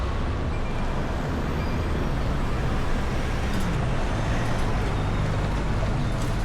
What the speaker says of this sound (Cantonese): 你等下車過先係嘛？